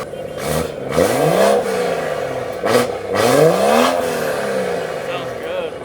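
A BMW engine at a car meet revs in short bursts, with two strong rises and falls in pitch over a steady idle. It is close and loud, and people talk over it.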